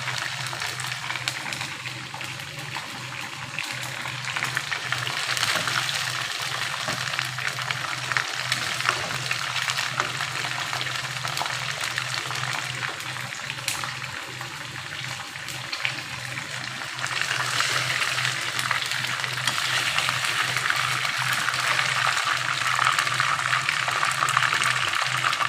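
Leftover frying oil from a chicken roast is poured out of the pan, with a constant broadband hiss and sizzle that holds steady and close throughout, with no voices.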